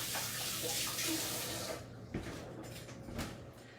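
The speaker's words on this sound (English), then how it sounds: "Wash the cheese off my hands." Tap water runs steadily into a kitchen sink while hands are washed clean of cheese, a continuous broadband rush for most of the moment, then softening and giving way to a few faint splashes and handling knocks.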